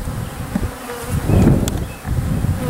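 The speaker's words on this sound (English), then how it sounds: "I'm going to take these bees that are in here and get some more to go right on top of the queen" A package of honeybees hums steadily during a hive installation, a dense close buzzing swarm that swells briefly louder midway, with no talking over it.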